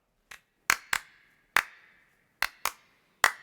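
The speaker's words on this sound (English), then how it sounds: "There's 2 claps." Studio hand claps run through a tape-based ADT double-tracking effect, heard as several crisp, close claps, some landing as quick doubled pairs a fraction of a second apart, with brief ringing tails.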